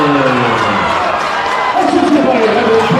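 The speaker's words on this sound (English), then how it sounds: "And the crowd loves it." A crowd roars and cheers in the gym after a dunk at a men's college basketball game, Ithaca against St. Lawrence, loud and sustained under excited commentary.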